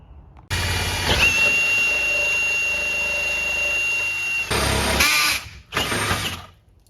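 A DEWALT drill with a hole saw bores through a metal door for lock installation, giving a loud, close, high whining grind with a steady tone for several seconds, then short bursts of drilling after a brief stop.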